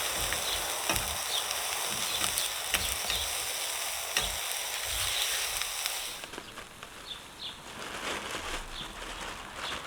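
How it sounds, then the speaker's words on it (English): A hamburger patty cooking over an outdoor campfire, a soft steady sizzle and crackle with faint popping, moderately distant and low in level, with no one talking. "You don't need to cook it all the way through, but we'll certainly cook most of it"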